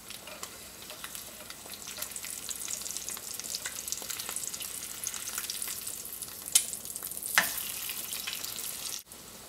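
An egg frying in a pan, a steady close sizzle with crackling spits and a few sharper pops, ending abruptly; no talking.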